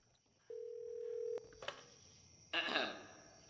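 A telephone in the video game Portal: Divinity gives a single sustained electronic ring tone, followed by clicks and a short burst of noise, with a faint voice briefly speaking.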